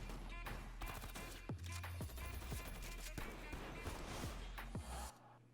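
Gunshots ring out in an action movie trailer for Tequila, used almost like a rhythm instrument, heard as a series of sharp, regular cracks and bursts over a musical backdrop.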